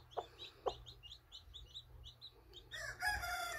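A mother hen clucks softly in a steady series of short notes, with a low hum underneath and louder fowl calls breaking in toward the end.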